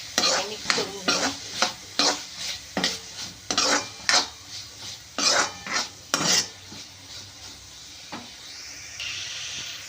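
Snake gourd bhaji with red chilli powder is stirred in a pan: about a dozen rhythmic, close scraping strokes over a soft sizzle, which then continues alone and quieter.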